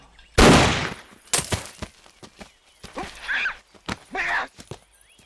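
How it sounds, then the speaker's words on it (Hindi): A single loud gunshot from a movie scene cracks out, followed by a few sharper reports and scattered clattering noises in a quiet outdoor setting. "अब गोली चला दो।"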